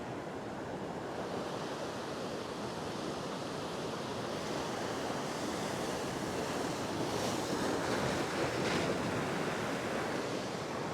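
Surf pounds a rocky shoreline at a rock-fishing spot, a steady close roar of breaking waves with wind noise, swelling louder around the later seconds.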